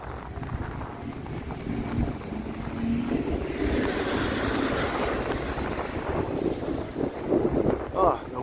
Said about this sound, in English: the wind is pretty bad walking that way now